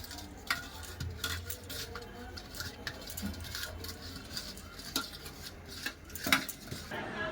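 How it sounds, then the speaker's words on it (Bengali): Raw fish is worked by hand with turmeric powder and salt in a bowl, making soft, repeated squelching and rubbing sounds with occasional light clinks of the dish, close and steady. "মাছে দিয়ে দিচ্ছি হলুদ গুঁড়ো দিয়ে দিচ্ছি লবণ এবার খুব ভালো করে মাখে রাখবো"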